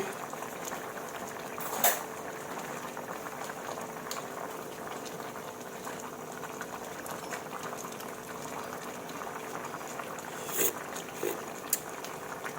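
Thai gaeng tepo curry with pork bubbles steadily in a pot, a soft, continuous boil with a few louder knocks and clinks now and then.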